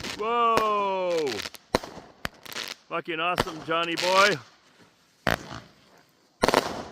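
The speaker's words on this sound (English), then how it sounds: "there's going to be fireworks. They're going to go boom!" Fireworks at a small show in Bombay Beach go off as several sharp, loud bangs spaced through the moment, mixed with excited shouting and cheering from people nearby.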